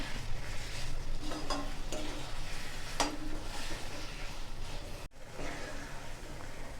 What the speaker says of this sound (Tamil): வெங்காயம் தக்காளி நல்லா வதங்கிடுது